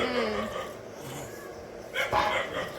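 A hungry dog barks a few times in a home courtyard in the morning. The barks come in a short burst near the end, over a steady background of household noise.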